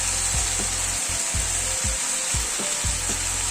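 A vegetable curry (sabji) sizzles and fries steadily in a pan, with a spatula scraping and stirring through it in repeated strokes, close and loud with no talking.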